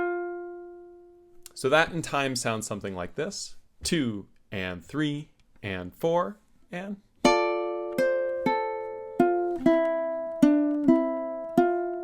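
A ukulele picks out a melody: a voice counts beats first, then clear plucked notes ring one after another, each decaying, at a steady moderate tempo close to the microphone.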